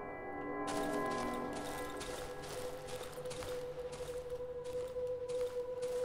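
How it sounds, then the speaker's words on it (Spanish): A moss-covered church bell in the video game Darkwood rings out with a long, resonant hum that sustains steadily and fades slowly, accompanied by eerie ambient tones. "Aún resuena el sonido dentro de esta campana musgosa."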